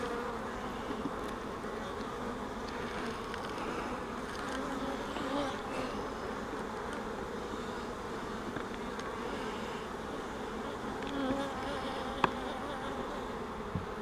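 Honey bees hum in a continuous, soft, steady drone during queen rearing with a Nicot system, with faint handling clicks from the hive work and no talk.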